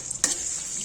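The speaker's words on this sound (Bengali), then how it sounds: "আদা পেস্ট দিয়ে নেড়ে নিচ্ছি।" Ginger paste sizzling in ghee and white oil in a wok, a steady bright hiss with one sharp scrape of a spatula near the start.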